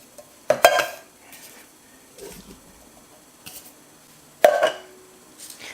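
Drained young jackfruit pieces are tipped into a cooking pot for a vegan jackfruit curry, giving a few sharp metallic clanks and soft thuds separated by quiet pauses, close by with no talking.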